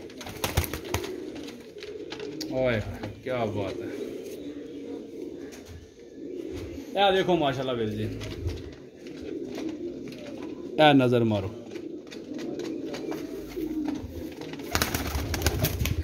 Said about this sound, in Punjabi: ਸਭ ਪ੍ਰਵਾਸੀ ਕਬੂਤਰ ਹਨ।